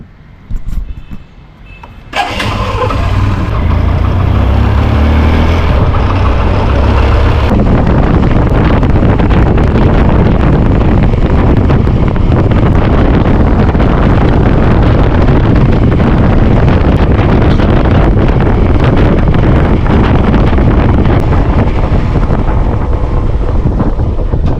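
Riding a motorcycle, a quiet start gives way after about two seconds to loud, constant wind buffeting and roaring road noise that blankets everything for the rest of the ride, with no voices.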